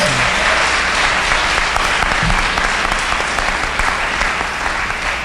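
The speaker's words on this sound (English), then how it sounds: "Can we give him a round of applause?" A conference audience at an arts capacity-building event breaks into loud, sustained applause, a dense steady wash of many hands clapping that fills the room for several seconds.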